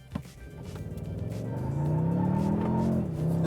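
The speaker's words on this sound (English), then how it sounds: "Hear that transmission? This is the new 10-speed transmission, and this is a revelation compared to the old 6-speed automatic." A 2022 Toyota Tundra with a new 10-speed automatic accelerates hard, its engine note climbing steadily and loud throughout, with a brief dip near the end as the transmission shifts before the drone resumes.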